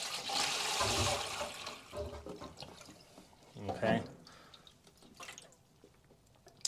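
Water gushing and gurgling as it drains from a leaking Kenmore washing machine during pump replacement, loudest at first, then a second burst, with a brief spoken word and scattered drips.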